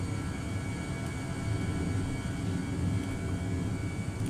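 Steady broadband roar of Airbus A319 jet engines just after takeoff in Flight Simulator 2020, continuous and fairly constant in level with no talking.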